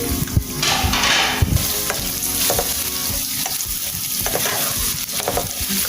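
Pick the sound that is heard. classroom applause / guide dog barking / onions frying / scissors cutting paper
onions frying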